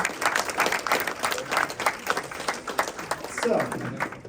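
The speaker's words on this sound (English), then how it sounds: "Round of applause." At a startup pitch competition in Warsaw, an audience claps in a moderate, dense round that rises and falls, with a voice talking over the applause.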